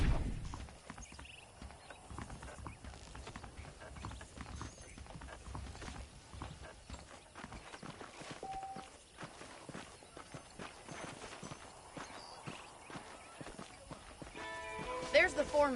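Horse hooves clip-clopping at a walking pace in the video game Red Dead Redemption, a quiet, steady run of soft hoof taps with faint mechanical creaks underneath, while someone talks over them.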